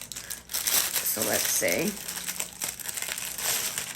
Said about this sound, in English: I'm trying not to make too many crinkling noises